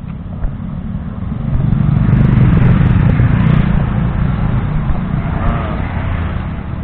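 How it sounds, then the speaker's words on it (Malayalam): Several motorbikes in a bike race passing by, a steady loud engine roar that swells in the middle and then holds. "ഇതേ കുറെ ബൈക്കറൊക്കെ വരുന്നുണ്ട് കേട്ടോ, ബൈക്ക് റേസ്."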